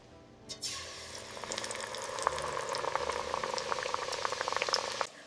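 Fries hiss and bubble loudly in hot oil during their second fry, a dense steady crackle with sharp pops starting abruptly and cutting off near the end, no voices.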